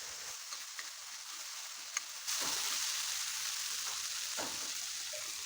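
Tomatoes sizzle in a hot pan; the frying grows suddenly louder and steadier as a little water is added, with light stirring scrapes throughout.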